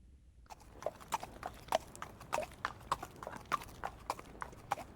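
Horse hooves clip-clopping at a steady walking rhythm, a series of crisp regular knocks on a hard surface, moderately near.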